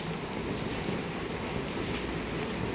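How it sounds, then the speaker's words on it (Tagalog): Steady rain falls on and around a phone outdoors, a dense continuous hiss of drops with no pauses, close and moderately loud, with no voices. "Hindi ako makalabas ng banda kasi yung ulan tumatama sa cellphone."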